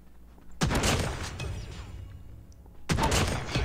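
Two sharp bursts of rapid gunfire from Call of Duty Mobile ring out loud and close, separated by a couple of seconds of fading echo and quieter battlefield ambience.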